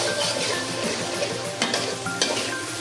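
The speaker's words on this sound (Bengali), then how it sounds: "এটা একটু ভাজা ভাজা হতে থাক।" Chicken coated in ginger garlic paste sizzles steadily in a pan while being stirred, with scraping strokes of the spoon now and then and no talk.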